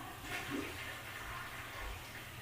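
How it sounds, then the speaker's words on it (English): A toilet flushes in a film scene, a rushing, gurgling swirl of water that stays fairly steady for a couple of seconds, with no talk. "I heard the flush"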